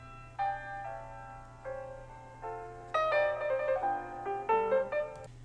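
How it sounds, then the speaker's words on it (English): Quiet filtered, sped-up piano sample playing chords and short melodic phrases with a faint delay echo trailing the notes, over a low steady hum. "Next we have the main piano sample,"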